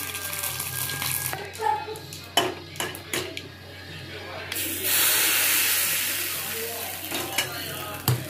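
Dosa batter hits a hot griddle with a rising hiss that swells and fades, after a series of sharp clinks and scrapes of kitchen utensils.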